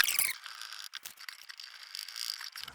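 Screws driven into the front plate of a handmade cajon drum box, a faint ratcheting, whirring mechanical sound running steadily for a couple of seconds after a brief louder burst at the start, with no talking.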